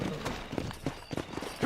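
Hooves of a ridden horse in Red Dead Redemption, a short burst of quick, fairly close clip-clop beats.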